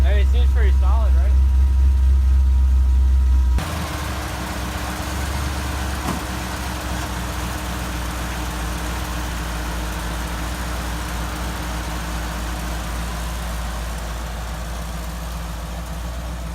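Jeep CJ7 engine with newly installed EFI idling right after its first start, a steady low rumble that follows a loud cranking burst near the start and then holds an even idle, with a voice speaking briefly over it.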